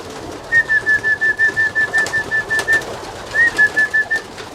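Pigeons coo inside a loft, a run of soft repeated coos in a steady rhythm, then a short pause and a second shorter run, close and clear over quiet background.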